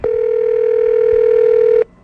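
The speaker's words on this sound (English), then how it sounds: "So Ruby called me and I called Wright" A landline telephone dial tone sounds as a steady, loud continuous hum for nearly two seconds, cutting off abruptly, with faint background noise underneath.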